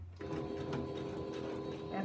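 Sewing machine stitching a row of a Spinning Wheels quilt, a steady close mechanical whir with a fast regular needle rhythm that starts after a brief quiet moment and runs on alone.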